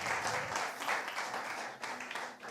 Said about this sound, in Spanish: Vamos, aplaudan al Señor.